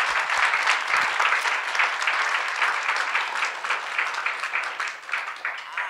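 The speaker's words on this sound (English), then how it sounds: "Round of applause." Audience applause at an awards ceremony fills the room, a steady dense clapping from a crowd that holds loud for about six seconds and tapers slightly at the end, with no speech over it.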